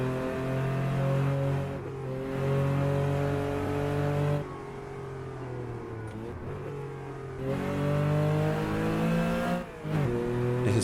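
A Porsche 914/6 flat-six engine revs and accelerates on the San Bovio circuit, loud and close, climbing in pitch through the gears with brief drops at each shift.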